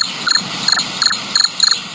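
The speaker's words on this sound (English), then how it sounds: "Standard crickets." A crickets sound effect plays, loud rhythmic chirping in quick pulsed bursts repeating about every third of a second, close and clear with no talking.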